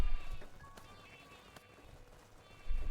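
Sheep bleating in the video game Craftopia, with a couple of short bleats rising from a busy game background ambience, moderately loud and close, with no speech.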